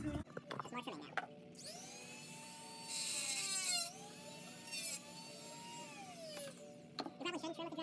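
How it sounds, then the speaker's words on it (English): A Dremel rotary tool trimming, its high whine spinning up and varying in pitch as it cuts for several seconds, with brief handling noises and speech before and after. "You probably shouldn't trim with the Dremel. I'm doing it out of lack of any better tools for this."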